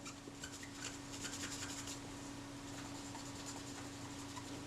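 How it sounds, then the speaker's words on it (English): Parts of a Retina IIa camera lens are polished with naphtha on a cloth, producing faint, continuous close-up rubbing over a steady low hum, with light scratchy strokes in the first two seconds. "as I was polishing them like this with the Naphtha, cleaning them"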